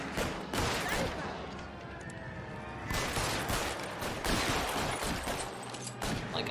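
Gunfire in LA Noire, a shootout against security men: dense, continuous bursts of shots packed across the whole stretch, loud and close, with voices talking over the battle.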